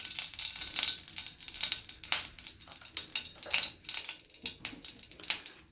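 Two spoons of ghee sizzle and crackle steadily in a hot pan for frying paneer, a close, continuous frying hiss with bursts of popping and no voices.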